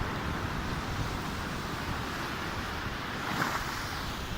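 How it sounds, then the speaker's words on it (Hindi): Pacific Ocean surf washing onto a Sydney beach makes a steady, broad roar with gusty wind buffeting the microphone, the wash swelling slightly near the end with no voices. "ये आप देखिए पैसिफिक ओशन कितना स्पीड से आ रहा है"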